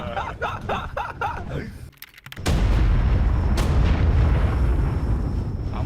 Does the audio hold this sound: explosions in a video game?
yes